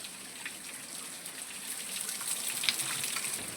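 Water trickling and splashing from a rock spring on the Malshej Ghat mountain pass in the Sahyadri hills, a steady soft splashing flow heard close by, with no voices.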